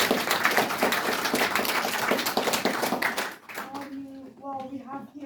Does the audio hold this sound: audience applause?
yes